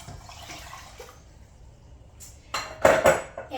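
Water and white vinegar are poured together for a refrigerator pickle brine: faint clinks, then a short, loud, splashing pour close by.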